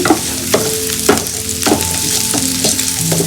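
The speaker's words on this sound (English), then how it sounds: "I'm going to add the almonds, sliced almonds, and the currants, frying it together here" Sliced almonds and currants sizzle in hot ghee, with a spoon scraping and stirring through the pan every half second or so, close up.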